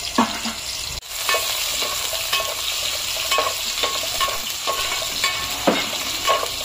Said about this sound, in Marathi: आपलं तेल तापलेलं आहे, तर काय करूया, हा बारीक चिरलेला कांदा घालूया।